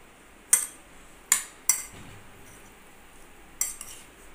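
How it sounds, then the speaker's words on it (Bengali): Mixing boiled potatoes for aloo chaat with tamarind water in a bowl gives a few sharp spoon-on-bowl clinks, three quick then one more after a pause, close and fairly quiet with no talk. "এইবার এই সব কিছু দিয়ে খুব ভালো করে মেখে নিতে হবে।"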